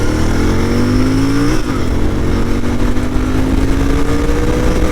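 GT 650 motorcycle exhaust under hard acceleration, a loud, continuous engine drone rising in pitch, with a brief dip at a gear shift before it climbs again. No talking.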